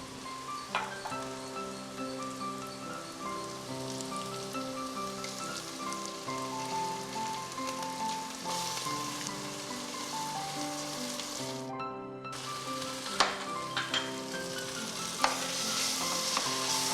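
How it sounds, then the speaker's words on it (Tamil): Ginger garlic paste sizzles with sautéed mint in a pan, a steady crackling fry running through with a brief dip, no one talking over it. "புதினா நல்லா வதங்கிருச்சு இப்போ அதில் இஞ்சி பூண்டு பேஸ்ட் ஆட் பண்ணலாம்"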